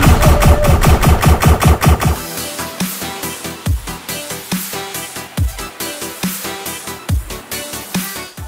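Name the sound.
Pi-Tech gunfire in video game Call of Duty: Advanced Warfare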